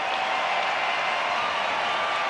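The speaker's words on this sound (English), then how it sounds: "greeted with loud applause from the grandstands" Grandstand crowd at a Hong Kong versus Spain rugby sevens match applauding in a continuous, even wash of clapping, distant and steady throughout.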